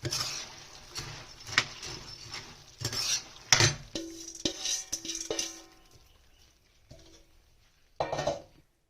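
Boondi is stirred into slightly cooled sugar syrup for meethi boondi, Sindhi nukti: a spoon scrapes and clinks against the pot in uneven strokes, with wet patter between, then a pause before one last stir.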